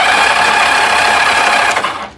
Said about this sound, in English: Starter crank's nice though